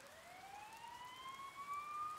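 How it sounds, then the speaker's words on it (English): A police siren in the video game Persona 4 Golden wails with a rising, sweeping tone, fairly faint and somewhat distant over a quiet background. "You hear sirens nearby."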